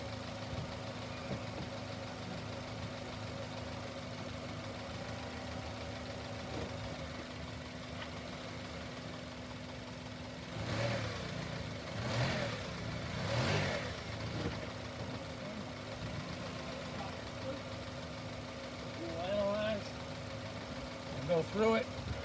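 A Honda car engine idles steadily in park and drive with the foot on the brake, then surges through a few brief power-brake revs before settling back. Someone talks throughout over the low, even hum.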